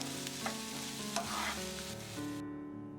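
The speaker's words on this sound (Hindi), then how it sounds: "इन्हें तकरीबन 1 से 2 मिनट के लिए फ्राई करेंगे" Half a kilo of mashed boiled potatoes stirred and fried in a pan, a steady sizzle with scraping stirs, close and continuous with no talking.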